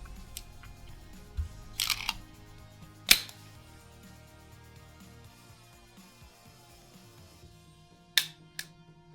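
Dry-fire trigger clicks from a CZ pistol in single and double action: a few sharp, isolated mechanical snaps spaced several seconds apart over a quiet background, no talking.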